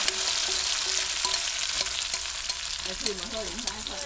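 Meat deep-fries crisp in hot oil, a dense continuous sizzle loud and close, with faint background voices mixed in toward the end.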